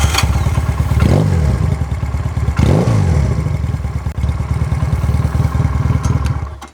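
A Benelli Patagonian Eagle 250 motorcycle on its stock exhaust is heard nearby, its engine thumping steadily and rising in two distinct throttle blips about a second and a half apart, each swelling and then falling back.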